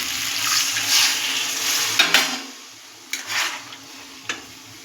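Rinse water from a plate of jackfruit splashes into a hot pan with egg scramble, setting off a loud sizzle and bubbling, followed by a few sharp clanks of utensil against pan and quieter frying.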